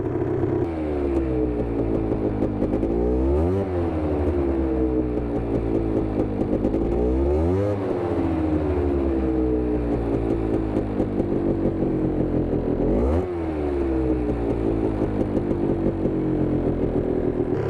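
A Polaris Scrambler 400 ATV engine with an overheating problem runs steadily while warming up, its loud mechanical drone rising in three distinct revs and dropping back to idle, with some clatter and no talking.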